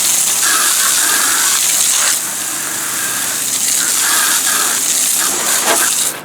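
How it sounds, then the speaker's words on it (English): A strong, steady gush of pressurized water sprays from a Gilmore industrial nozzle on a hose used for auto detailing, a loud continuous hiss that dips briefly and then resumes. "I want to show you the pressure coming through this little Gilmore industrial nozzle"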